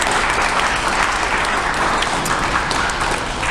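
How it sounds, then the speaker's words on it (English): An audience at a school fall athletic assembly applauds continuously, a thick, loud wash of many hands clapping that holds steady for several seconds. "if you want to clap for yourself again"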